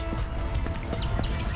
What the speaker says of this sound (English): I'm hearing bird songs again